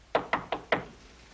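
Four sharp knocks on a door, evenly spaced and close, each a crisp rap that fades quickly, with no voices.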